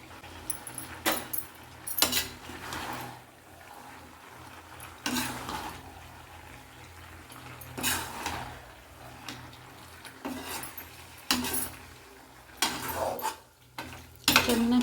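A spoon stirring pasta and masala in a pan, with repeated scraping and clinking strokes against the metal over a steady background of cooking noise.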